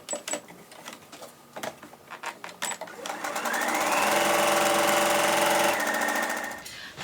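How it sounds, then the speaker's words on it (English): A sewing machine top stitches close to the fabric edge on a bunny Easter basket, starting after a few light clicks and handling taps, then running loud and steady for about three seconds before slowing to a stop. "we're going to top stitch close to the edge to give that a really smart finish"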